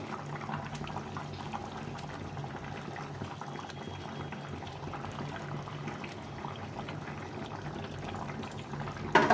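A tomato-heavy fish curry bubbles steadily in a pot as fish pieces go in, a constant low simmer with a soft splash and clatter at the very end.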